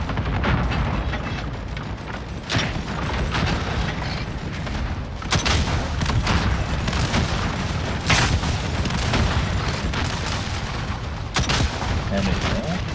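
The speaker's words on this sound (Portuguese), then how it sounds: "Opa, explodiu." Heavy booms and rolling blasts of an explosion sound amid dense gunfire in a Call of Duty Modern Warfare battle. Several sharp bursts punctuate a continuous loud din of combat.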